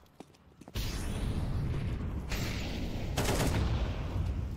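Gunfire erupts in a Counter-Strike match on the Overpass map during a professional esports game, a dense, continuous volley of shots following a couple of isolated pops, loud and sustained.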